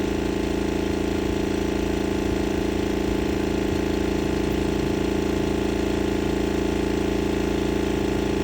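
Air compressor inflating a Slingshot tire toward 50 psi, a loud, steady, unbroken motor drone with a constant hum, close to the listener and without talk.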